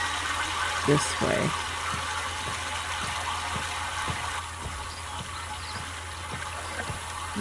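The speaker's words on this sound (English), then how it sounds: "We can still hear the water." Flowing water in the video game Myst, a steady trickling stream under a speaking voice, with soft rhythmic clicks repeating through it.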